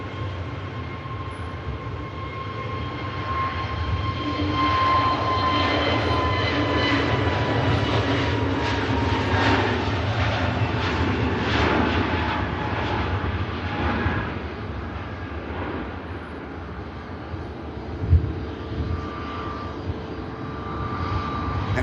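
An EasyJet jet airliner takes off from Manchester bound for Geneva, its engines building into a loud, sustained roar with whining tones, then slowly easing as it departs, with a brief thump near the end.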